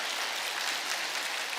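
A congregation applauds warmly to welcome newcomers during a Sunday church service, a dense, even burst of clapping lasting only a moment with no speech.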